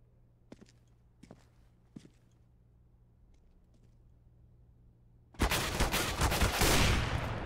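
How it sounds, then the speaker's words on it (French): Gunfire in a competitive video game match: a few faint, sparse shots or steps at first, then a sudden loud, dense barrage of rapid gunfire that keeps going to the end. "Fox qui est tombé justement sous les balles de Crystal"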